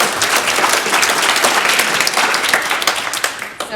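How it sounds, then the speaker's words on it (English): Loud, sustained applause from a business event audience, many hands clapping densely and close, holding steady before thinning slightly at the end. "Round of applause for that"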